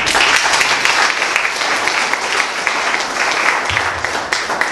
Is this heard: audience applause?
yes